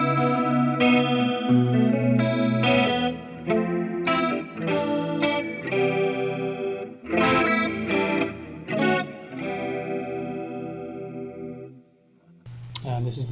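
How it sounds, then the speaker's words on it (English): An electric guitar runs through a POG 2 octave pedal with the chorus detune turned fully up, giving shimmering, wobbly detuned chords and single notes that ring out close and clear. "So this is the sound with the chorus right up."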